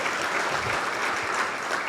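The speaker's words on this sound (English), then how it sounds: "Give this special guest a round of applause." Steady applause from a dinner crowd welcoming a special guest at a political banquet, dense clapping held at an even level throughout with no voices standing out.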